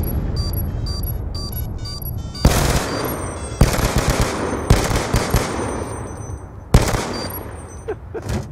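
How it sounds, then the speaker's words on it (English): Gunfire in a hardcore search and destroy video game match comes as loud close bursts of automatic fire, sharp single cracks and rattling volleys, separated by stretches of quieter background noise. "I'll just, you know, shoot through his arms"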